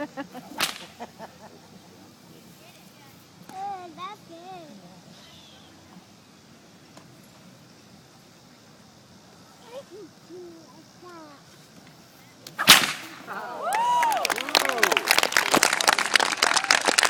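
Whip cracks ring out at a whip-cracking family's show at the Illinois State Fair: one sharp crack early and a loud crack later, followed by crowd applause and cheering, with voices heard in between.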